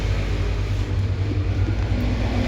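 A small engine idles steadily after its carburetor has been cleaned and overhauled, giving a loud, continuous low rumble close by with no talking.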